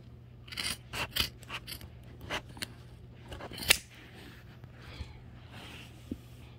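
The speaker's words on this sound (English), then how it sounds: "I might as well go ahead and cut this runner" Scissors cutting through a carpet runner in a closet being renovated, giving a series of crisp snips and scrapes, some close and sharp, with quiet gaps between cuts and a steady low hum underneath.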